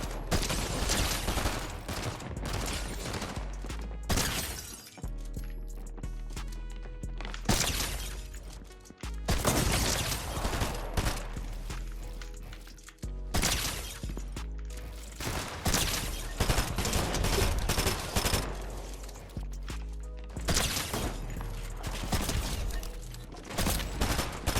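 Gunfire from fights in the video game Fortnite: dense, loud bursts of rapid shots and crashing impacts that fill the whole stretch, with brief gaps between volleys and no talking.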